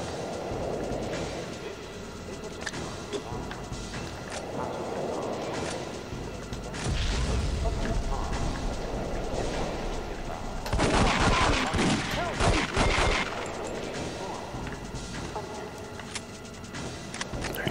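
Shotgun blasts boom repeatedly in the 007 The World is Not Enough video game during a boat and train chase, loud bursts over rumbling train noise, with a clustered volley partway through.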